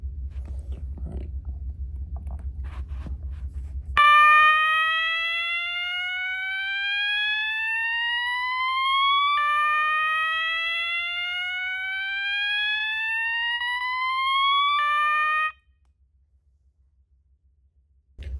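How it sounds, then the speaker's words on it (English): System Sensor MA/SS-24D fire alarm sounding its slow whoop tone: loud, close rising electronic sweeps repeating about every five seconds, then cutting off into near silence, after a brief stretch of low background rumble. "So we'll start with slow whoop."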